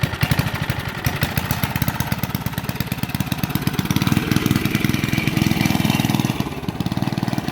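Heathkit Boonie Bike minibike engine running steadily close by, a rapid buzzing small-engine putter with a dense, even firing rhythm that swells slightly in the middle and continues without pause.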